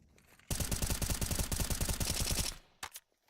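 Automatic gunfire rattles in a Counter-Strike match, a loud rapid burst of evenly spaced shots lasting about two seconds, followed by a couple of quieter short bursts after a pause.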